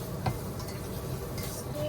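Chicken macaroni soup being stirred in a pot of broth, with faint, soft scraping and sloshing against a low, steady background hiss.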